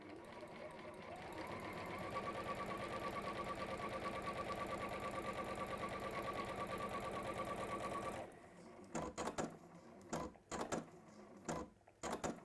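A home sewing machine runs a long, steady stitch at a fairly close distance, with a continuous even whir, then stops and gives way to a few short bursts of stitching at the end.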